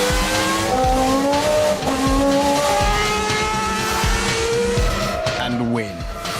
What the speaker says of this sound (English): an F1 car accelerates to the kinds of speeds at which a jet aircraft takes off